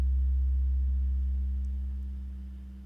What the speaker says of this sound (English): I wanted it to be a sub drop that then holds at the lower octave